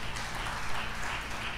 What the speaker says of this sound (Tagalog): Yung malakas na palakpak.